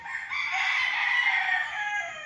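A gamefowl rooster crows once in a long, drawn-out call at a game farm in Liliw, Laguna, fairly close and clear, with no talk.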